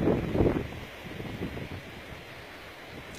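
Gusty wind blows across the microphone near the Terni landfill, a low buffeting rumble that swells loudest in the first half-second and then settles into a steady, rough roar with no voices.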